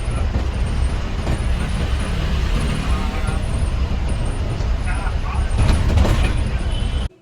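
An APSRTC Ultra Deluxe non-stop bus rolls through Tirupati city traffic, a loud, steady engine rumble and road roar heard from inside, with a brief air-brake hiss near the end and low talk underneath.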